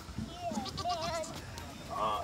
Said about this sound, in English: What's over there? Goats.